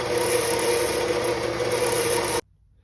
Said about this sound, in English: we're over here at the bandsaw. I've marked up the piece of stock, and I'm starting to cut these pieces